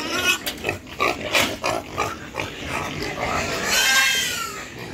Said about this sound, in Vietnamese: Chuồng nào cũng đầy ấp heo hết.